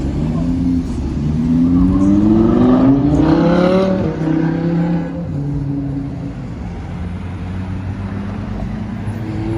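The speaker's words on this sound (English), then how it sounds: "I want to get a shot of this vehicle as he turns." A car drives along a Hollywood street and turns, its engine rising loudly as it accelerates nearby, then settling into a lower steady hum amid street ambience.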